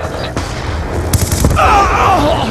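Video game gunfire crackles in loud, dense bursts of shots that blend together, with a rumbling low end beneath.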